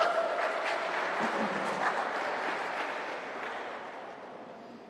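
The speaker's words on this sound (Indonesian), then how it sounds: "Ya, berikan aplaus untuk semuanya." An audience claps together at the final of a Quran comprehension competition in Kutai Kartanegara, a steady wash of applause filling the hall and slowly fading over a few seconds, with no talk.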